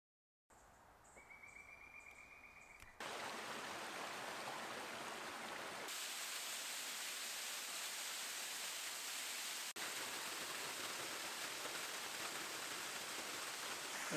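Waterfall at Bridle Falls on the Franconia Ridge loop, heard as a steady, loud broadband roar of rushing water that swells sharply after a few seconds and holds constant, with no talking.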